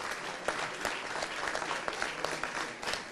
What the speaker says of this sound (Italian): io chiedo a tutti un enorme applauso per questi ragazzi